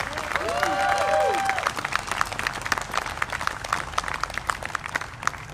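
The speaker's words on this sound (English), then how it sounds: "One more round of applause for Miss Christy Kendrick." A crowd claps steadily for several seconds at a Libertarian presidential campaign rally in Covington, Kentucky, a dense patter of hands that carries on evenly to the end.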